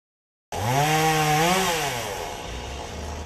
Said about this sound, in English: Chainsaws and rakes have become the most handy tools around campus for the past few days.